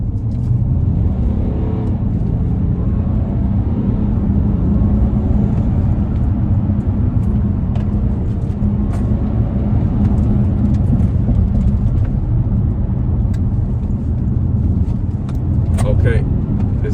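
A 2018 BMW X3 30d M Sport xDrive diesel drives in sport mode, its engine and tyre noise a steady loud drone from inside the cabin, with someone talking over it.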